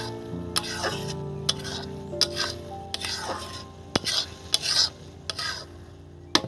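A spatula stirs cashews in a pan for basanti pulao, giving rhythmic scraping and clanking strokes over a light sizzle, close and distinct, with a faint voice-like murmur at times.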